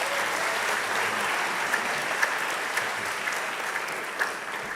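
High school students and guests applaud their principal with steady, dense clapping from a large crowd indoors, holding an even level for the whole stretch with a few sharper individual claps standing out.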